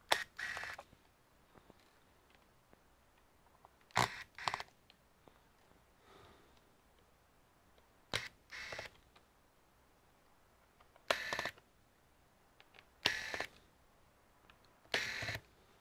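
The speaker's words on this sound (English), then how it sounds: "So we're basically undoing screws." Screws being undone with a small screwdriver on the underside of a Lenovo ThinkBook 15 Gen 2 laptop, giving faint, close, sharp clicks and ticks in short clusters separated by quiet pauses.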